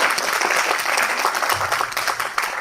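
Audience at a Hindi poetry gathering (kavi sammelan) breaking into loud, sustained applause, many hands clapping together in a dense, steady wash from start to finish.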